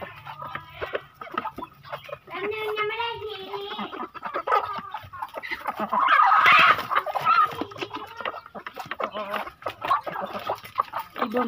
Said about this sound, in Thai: เดี๋ยวไก่เจ้าถิ่นมาแน่นอนเลยนะครับ